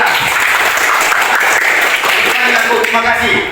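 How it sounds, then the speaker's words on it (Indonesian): Classroom applause for a student during a Catholic religious education lesson: a steady, dense burst of clapping from the class that fills the whole stretch, with voices faintly mixed in. "Terima kasih, tepuk tangan kita untuk Yeka."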